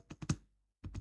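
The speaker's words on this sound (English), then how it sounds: "We will go to cell B9 and then we will type this digit 425000 in the formula bar." A few close key taps while typing numbers on a computer keyboard into a spreadsheet, three quick presses, a short silence, then three more.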